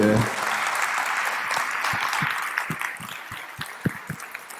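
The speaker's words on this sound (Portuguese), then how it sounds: "Muito bem, palmas para ele." Audience at a talk on neuro-linguistic programming bursts into sustained, even applause, with a few sharper near claps standing out over the general patter.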